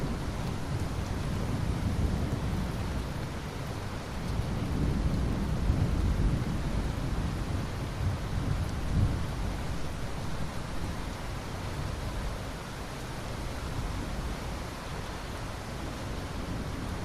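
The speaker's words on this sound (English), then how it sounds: "Rainfall" Steady, dense rainfall hisses continuously while deep thunder rolls and swells in the background, with no voices present.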